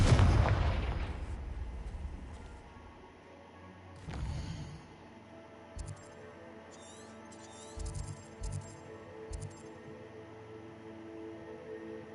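A Confringo fire spell cast in the Hogwarts Legacy video game erupts in a loud blast that fades into a rumbling tail, followed a few seconds later by a second boom and scattered smaller thuds and crackles.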